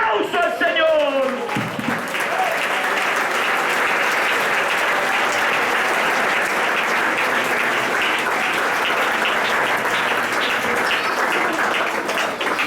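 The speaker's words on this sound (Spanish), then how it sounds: "Un aplauso al Señor" A church congregation at a Sunday school sermon breaks into loud, sustained applause, with dense, even clapping that holds steady for over ten seconds after a brief voice at the start.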